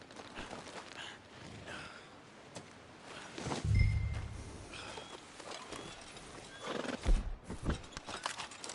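A horse whinnies and neighs while its hooves clip-clop on the ground, the snorts and neighs close and fairly loud, with a heavy thud partway through and a second burst of neighing near the end.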